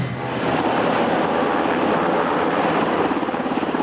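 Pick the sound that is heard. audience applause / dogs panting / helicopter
helicopter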